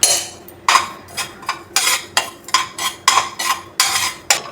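Poppy seeds roast in a pan for a Malida sweet, with a spoon or spatula scraping and clinking against the metal in quick, regular strokes, close and fairly loud.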